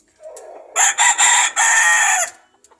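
A young gamecock, a stag, crows once in a loud, close, broken call of several bursts, with softer clucking just before it and no talk.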